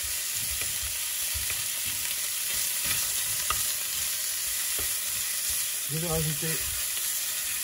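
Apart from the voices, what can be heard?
beef browning and sizzling in a pan for tajine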